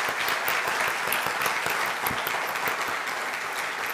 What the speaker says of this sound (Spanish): a quien recibimos con un aplauso